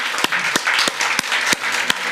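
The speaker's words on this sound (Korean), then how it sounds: "우리 하나님께 감사와 영광의 박수 올려드리겠습니다" A church congregation at a Sunday worship service claps continuously, with a few louder, sharper claps standing out at irregular intervals.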